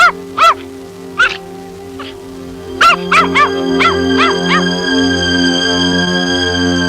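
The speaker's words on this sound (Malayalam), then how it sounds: "എന്താ ഈ പട്ടിക്ക്?" A pet dog barks in short sharp yelps, first spaced apart then in a quicker run of five or six, loud and close, over a steady sustained musical background.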